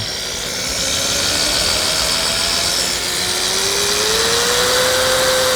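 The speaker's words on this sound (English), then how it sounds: "I'm going to drill the hole with a Miller dowel bit" A steady whining motor hum with a slowly rising tone as a power drill with a Miller dowel bit spins up and bores into wood, continuous and fairly loud throughout.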